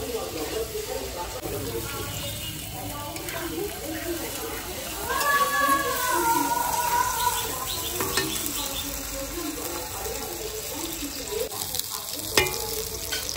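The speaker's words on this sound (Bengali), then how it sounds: "পনিরের সাথে মশলাটা কষে নিয়েছি, এবার জল দিয়ে দিই।" Paneer and spice masala fry and bubble in a pan as water goes in, a steady close sizzle with stirring scrapes and a faint voice in the background.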